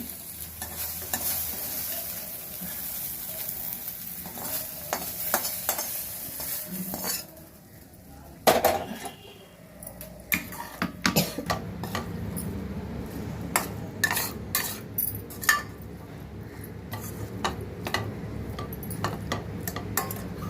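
Cut okra pieces fry in hot oil while being stirred in a pan, a steady sizzle broken by repeated scraping and clinking of a metal spoon against the pan, with a brief lull partway through.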